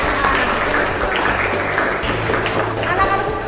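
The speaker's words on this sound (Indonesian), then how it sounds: "Kita tepuk tangan untuk kita semua." Classroom of students clapping together after an accounting lesson, a steady continuous patter of hands lasting throughout, moderately loud and close, with some voices mixed in.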